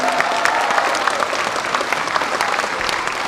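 An audience at a city mayor's public town-hall meeting breaks into sustained, dense clapping that carries on steadily, close and loud.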